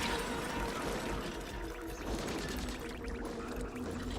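Splashing water effects in the video game Splatoon Raiders, a steady dense rush of pouring and spraying liquid with clattering game sounds that runs loud and continuous throughout.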